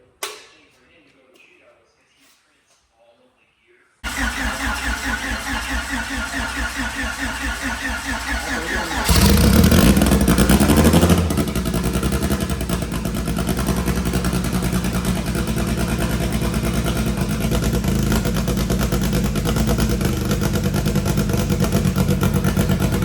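A tuned car engine at PFI Speed in Colorado cranks and fires on a dyno after a few seconds of near silence, flares loudly for a moment, then settles into a steady, close, sustained run.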